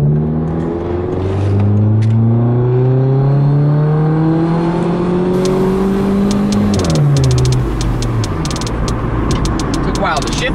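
Up close, a cold car engine revs hard, its pitch climbing steadily before it drops sharply at a gear change and builds again, loud and continuous, with scattered clicks and knocks over the top.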